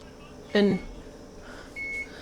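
A kitchen stove gives a short, thin electronic beep near the end, fairly quiet against room noise, with a brief voice sound just before it.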